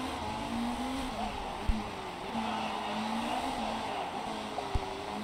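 Race cars roar past in the Motorsport Manager video game during a GT race at Munich, a steady engine drone with pitch shifts as one car makes a pass, plus two brief sharp knocks.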